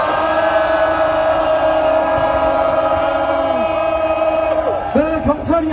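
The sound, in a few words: crowd cheering at protest rally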